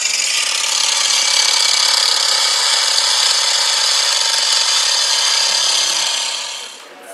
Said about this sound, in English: Two man chainsaw. Wow. Yeah.